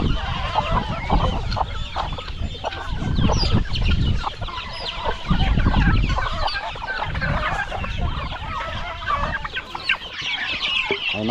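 Chickens and chicks on a farm cluck and peep in a busy, overlapping flock close by, a steady stream of chatter that rises and falls.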